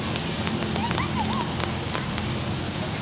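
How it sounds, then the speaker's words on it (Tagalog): Steady rain falls outdoors in a town in Urdaneta, Pangasinan, a dense continuous hiss with scattered heavy drops pattering on surfaces, moderately loud throughout, with faint distant bird calls and no voices. "Umuulan ngayon."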